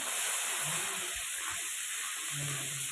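Chopped tomato dropped into hot mustard oil, a steady broadband hiss of sizzling frying that holds evenly throughout, close and moderately loud.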